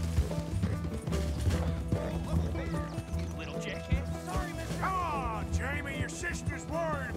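Horse hooves clip-clop in the video game Red Dead Redemption 2, close and steady beneath a bed of game sound, with whinnying and neighing calls rising toward the end.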